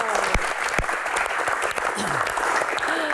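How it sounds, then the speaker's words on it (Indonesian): Steady applause from a studio audience at a talk show featuring a badminton champion, dense clapping filling the whole stretch with a few sharper claps standing out near the front. "Oke, tepuk tangan."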